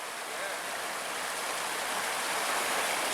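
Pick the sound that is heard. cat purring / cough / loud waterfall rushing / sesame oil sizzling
loud waterfall rushing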